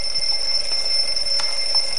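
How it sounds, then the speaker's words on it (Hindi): An alarm clock rings right beside the ear, a constant high shrill electronic tone holding steady without pause, with no one speaking. "अरे कान के पास लाकर क्यों अलार्म बजा रहे हो?"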